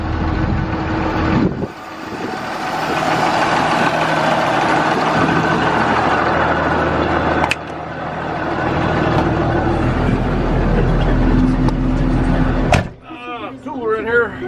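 A Pro 700 planter runs in the rain, heard from inside the tractor cab as a steady mechanical drone broken by a few sharp clunks, with a muffled voice at times.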